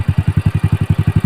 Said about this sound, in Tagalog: Pakikinggan nyo yung response ng makina kung anong response.